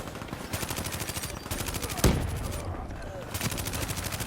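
Rapid automatic gunfire in the video game Call of Duty Black Ops 2, loud, dense bursts running almost continuously with a sharp heavier shot midway.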